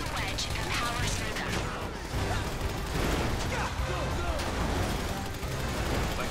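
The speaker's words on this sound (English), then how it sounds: "Yeah, you start shooting." Gunfire during a GTA V Online mission, a steady run of shots layered under loud game noise and engine rumble, with players' voices talking over it throughout.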